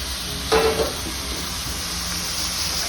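Onions sizzle steadily in a hot pan, a constant broadband hiss throughout with a brief louder stir-and-scrape near the start, close and without talk.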